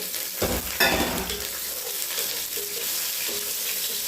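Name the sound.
chopped onion frying for ghee rice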